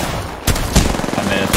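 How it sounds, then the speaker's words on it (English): Gunfire in Apex Legends: rapid shots crack out in a quick burst, loud and close, a few single reports standing out from the fast rattle of a firefight. "I just missed 5 shots in a row."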